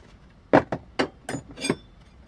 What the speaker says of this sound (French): avec une râpe, je commence les finitions